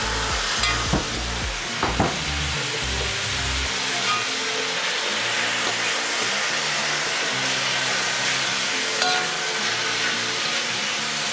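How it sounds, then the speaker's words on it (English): Shrimp stir-fried in a hot wok for spicy pad Thai sizzle with a loud, constant hiss, a few scraping stirs and clunks early on, close and continuous with no talk. "So now we add the shrimp to the wok, and we cook and stir until pink"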